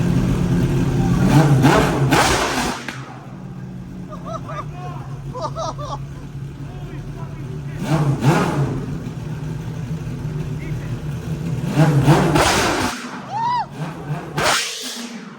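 A Pagani Zonda Revolution, just unboxed from a crate shipped from Japan, revs loudly in repeated sharp bursts with flames out the back, dropping to a rougher idle between blips, with people talking over it.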